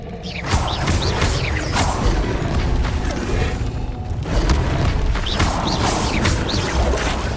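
Dense, loud magical spell effects in the Hogwarts Legacy video game, a continuous roar of crashing, booming impacts and mechanical clatter, with several swelling whooshes across the span and no speech.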